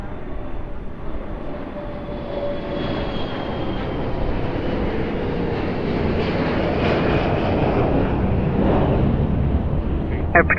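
An airliner takes off at Lisbon Airport. A broad, steady jet roar rumbles on for the whole stretch, swelling slightly as the engines power up for the run down the runway.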